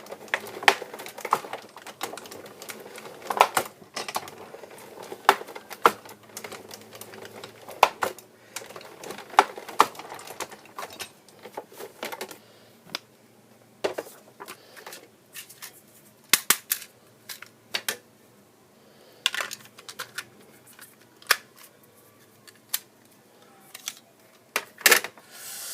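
Small electronic cutting machine slicing through paper, a close, quiet run of dry clicks and brief ticking taps with short pauses, mostly steady with sharper snaps near the end.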